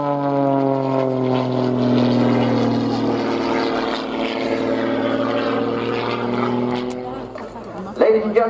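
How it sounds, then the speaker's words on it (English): A high-performance aerobatic propeller aeroplane flies overhead at a Royal Navy air station air day, its engine giving a loud, sustained droning buzz with a slowly falling pitch as it passes, then fading before a brief bump of other noise near the end. "High-performance aerobatic aeroplanes such as this."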